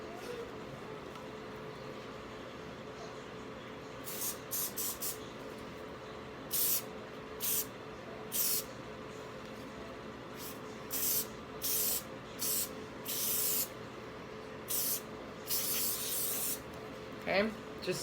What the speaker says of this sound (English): So I'm going to spray it in kind of a swirled motion,